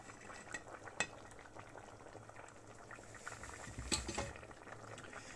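Lecho vegetable stew with sausage simmering in a pot, a faint steady bubbling with small crackles and a few light stirring knocks against the pot, no talking.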